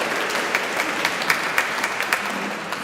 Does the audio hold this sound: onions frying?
no